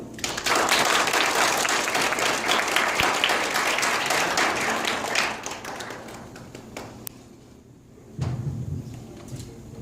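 An audience welcomes a speaker, Dr. Ashleigh Molloy, at a Canada 150 event with sustained, dense applause that fades over several seconds, followed by a short, lower burst of clapping near the end.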